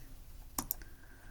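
Two quick, crisp mouse clicks close together on a computer, sharp and near against a quiet background hum.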